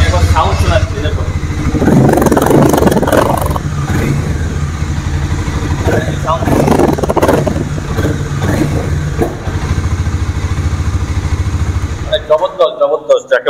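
A new Hero motorcycle engine runs close by at a showroom, idling with a steady throb and revving up twice before cutting off near the end, with talk in the background.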